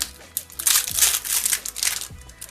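A LEGO Ninjago advent calendar packet is torn open, with close, loud plastic crinkling and crackling in several bursts over a couple of seconds.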